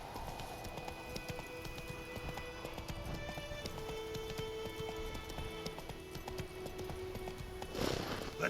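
Roach, a horse in The Witcher 3, gallops with quick, steady clip-clop hoofbeats that run throughout, fairly close and moderately loud, with a brief burst of other sound near the end.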